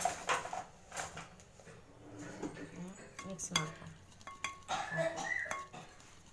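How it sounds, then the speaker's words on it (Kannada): Rice flour is mixed with melted ghee, giving scraping and clinking of a utensil against a bowl in uneven bursts, close by, with a person talking over it. "ತುಪ್ಪ ಕಾಯಿಸಿರೋದು ಹಾಕ್ಕೊಂಡು ಇದನ್ನು ಮಿಕ್ಸ್ ಮಾಡ್ಕೋಬೇಕು"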